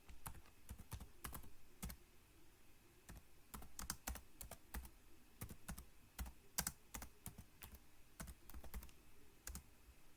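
Steady typing on a computer keyboard while entering heading text for an HTML and CSS page, with close, crisp key clicks in irregular bursts and short pauses throughout, and no talking.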